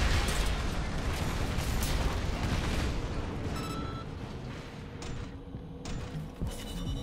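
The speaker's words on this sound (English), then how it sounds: "I don't like these missiles, though." Missile explosions and weapon fire in Armored Core 6: Fires of Rubicon, a dense, continuous roar of booms and blasts that fills the whole stretch, easing slightly toward the end with a few sharper pops.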